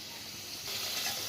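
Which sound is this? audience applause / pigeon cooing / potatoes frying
potatoes frying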